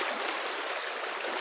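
A stream at a trail water crossing spanned by a log bridge flows nearby, giving a steady, dense rushing wash of water with no pauses.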